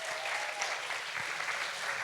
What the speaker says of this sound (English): forget the points. Applaud the poet